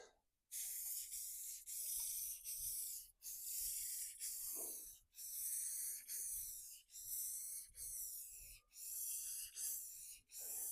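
Rust-Oleum satin white spray paint hissing from a can onto a target, in a run of steady bursts of about a second each, separated by brief pauses and close to the can.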